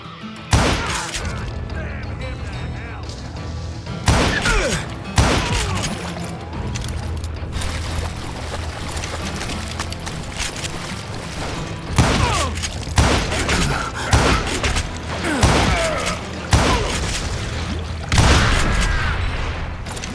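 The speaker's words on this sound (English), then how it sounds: "a fusillade of bullets come raining down from on high" Heavy video-game gunfire from Call of Juarez Gunslinger: dense volleys of booming shots and ricochets pour down in repeated bursts over a constant rumbling backdrop, loud and continuous throughout.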